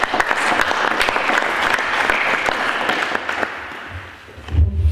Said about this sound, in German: einen großen Applaus, glaube ich, von allen für die geleistete Arbeit der letzten Jahre